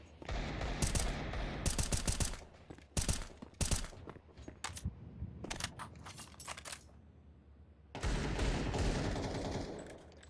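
AK rifle fire rips out in clustered bursts during a professional Counter-Strike match, loud and close, with short quieter gaps between volleys and a long sustained stretch of shooting near the end.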